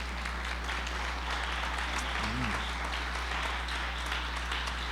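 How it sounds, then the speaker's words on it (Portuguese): A church congregation applauds during a Portuguese-language worship class, a steady dense wash of clapping heard at a distance over a constant low hum. "Você pode aplaudir o nome do Senhor Jesus, por favor?"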